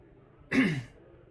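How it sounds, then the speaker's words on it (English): A single short, gruff throat clearing, close and brief, in an otherwise quiet room. "I've been clearing my throat a lot today."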